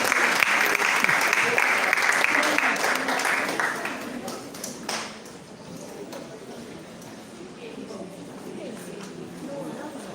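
Audience applause at an awards ceremony, loud and sustained at first, then thinning to scattered claps and crowd murmur after about five seconds.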